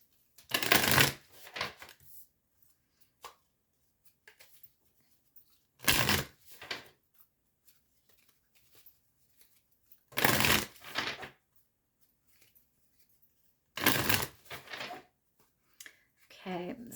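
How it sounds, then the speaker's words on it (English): A deck of tarot cards is shuffled in four short, crisp riffling bursts spaced several seconds apart, close and fairly loud, with quiet pauses between them. "give me a minute here while I shuffle this deck."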